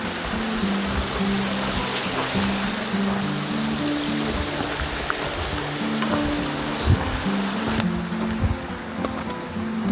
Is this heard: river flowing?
yes